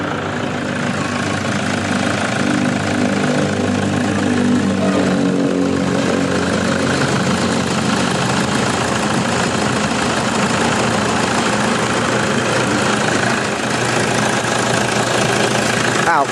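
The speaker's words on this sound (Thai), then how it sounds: "ฟังเสียงเครื่องยนต์กัน" Close, steady idle of a 2008 Toyota Vigo 3.0 E Prerunner pickup in neutral, a continuous low diesel-like clatter and rumble that holds level throughout without talking over it.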